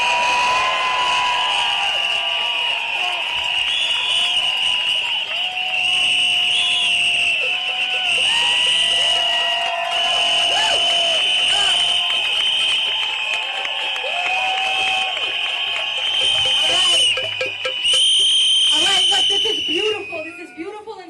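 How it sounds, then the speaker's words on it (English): Loud street protest crowd in Washington DC, with shrill whistles sounding continuously over crowd noise and scattered cheering, steady and dense for about twenty seconds before easing at the end. "Blow whistles. If you've got a drum, beat that drum. Make some noise."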